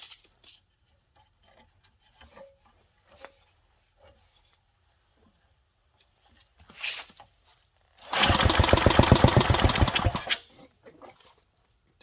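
A 1967 Briggs and Stratton small engine fires briefly, a loud rapid popping burst lasting about two seconds after a quiet stretch of faint handling noises.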